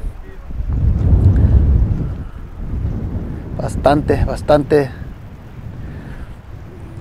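Strong wind buffets the microphone outdoors beside a river during a quail hunt, a deep roaring rumble that rises and falls, with a voice speaking briefly partway through.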